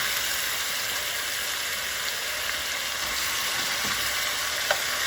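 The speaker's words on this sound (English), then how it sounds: "Now, I've got those oxtails on that side. I'm going to put these bigger ones right over here. Everything has got to sear off." Oxtails sear in a hot pan, giving a constant, close frying hiss and sizzle that holds steady from start to finish with no talking over it.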